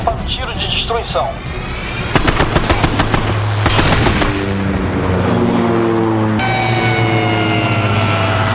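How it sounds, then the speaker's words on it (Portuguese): Machine gun fire aimed at a target, loud rapid bursts of sharp shots over a steady engine drone, followed by a continuous mechanical hum. "Intruso está atirando em mim."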